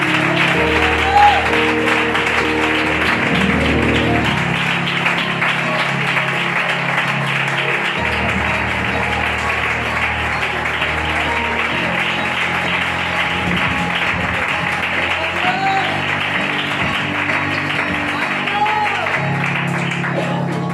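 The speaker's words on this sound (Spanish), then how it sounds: "Un aplauso para Dios." A church congregation in Villarreal claps together through a sustained, dense round of applause, with organ or keyboard music and voices mixed underneath.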